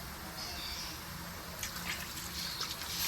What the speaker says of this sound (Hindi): एक गिलास भर के मैंने इसे पानी का डाल दिया